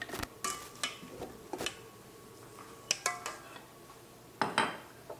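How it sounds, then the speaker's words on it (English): A whisk clinks and taps against a bowl while stirring vanilla extract, in short irregular bursts of metallic ticks separated by quiet pauses, faint and close. "I'll measure 1/2 teaspoon of vanilla extract in this and just give it a little whisk"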